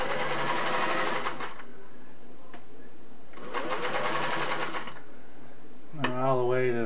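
A Singer Model 401A sewing machine stitches through Naugahyde in two steady whirring runs separated by a short pause. A faint click falls in the gap, and a voice follows at the end.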